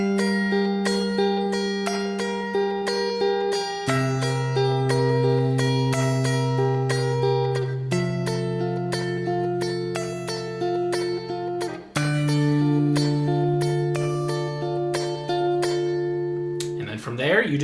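A slow acoustic guitar fingerpicked chord progression with sustained chords changing every few seconds, played steadily and clearly with a bright ringing tone, no voices.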